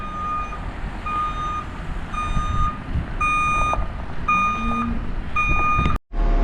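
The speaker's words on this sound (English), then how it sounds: "And out of the way of that dump truck." Repeated evenly spaced reversing beeps from a truck, loud and steady, over a rumbling diesel engine, ending with a sudden dropout.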